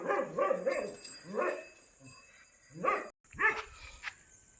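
A dog barking in short repeated bursts: a quick run of close yelping barks, a single bark, then two more barks after pauses, with a faint steady high tone throughout.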